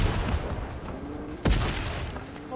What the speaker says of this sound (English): there's loose grenades going in there, my grenades